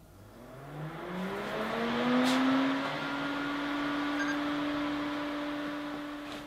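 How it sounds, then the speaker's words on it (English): A small homemade spray booth fan is switched on and spins up, its whirring motor tone rising in pitch over a couple of seconds and then holding a steady hum with airy noise. "Turn on the fan."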